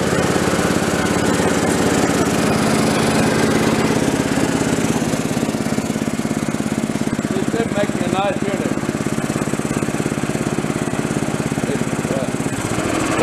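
A gas-engine Ingersoll-Rand SS3J5.5GH-WB wheelbarrow air compressor drones loudly and steadily at close range, its tone shifting slightly near the end as it kicks down at pressure.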